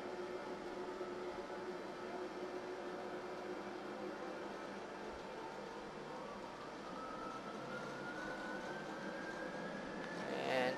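Airliner engines spooling up to takeoff power in a flight simulator, a steady faint rumbling whine with a tone that slowly rises in pitch and grows a little louder near the end.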